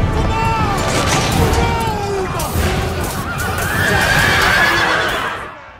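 Cavalry horses in the Total War Rome II battle game whinny repeatedly and loudly over a dense din of hooves and battle noise, with voices mixed in.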